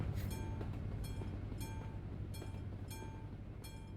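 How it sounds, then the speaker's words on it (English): A train rolling past a level crossing on a main road at night in Euro Truck Simulator 2, a steady loud rumble with rhythmic clicks of wheels passing over rail joints, repeating at regular intervals. "Here comes the train."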